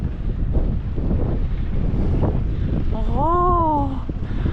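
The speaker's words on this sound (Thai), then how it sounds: "ลมแรงมาก ลมแรงสุดๆ" Strong wind on the Stelvio Pass, a high mountain road with some snow still lying, roars steadily and buffets the microphone throughout, and a voice briefly rises over it near the end.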